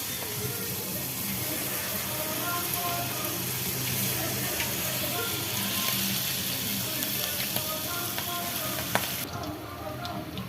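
Bondas made from idli batter frying in hot oil, a steady close sizzle and bubbling that continues throughout with faint scraping now and then, with no voices.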